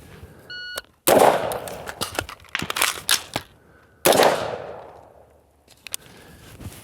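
Sharp carbine gunshots during a timed emergency reload and transition drill: a loud shot with a long echoing tail, then a rapid cluster of cracks, then another big ringing shot. Faint beeps from a shot timer come first.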